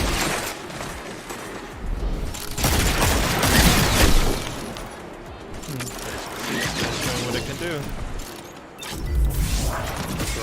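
Burst-fire Ghost weapon shooting in Destiny, repeated loud clustered bursts of gunfire spread through a busy multiplayer match, with short gaps between volleys.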